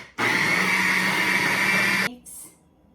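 A kitchen blender grinds lumpiang shanghai egg roll filling in one loud, steady burst of about two seconds that stops abruptly, followed by a brief quieter whir as it spins down.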